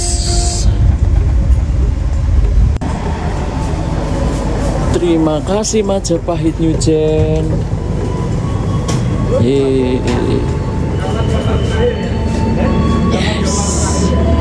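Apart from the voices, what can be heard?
KA Majapahit train entering Pasar Senen station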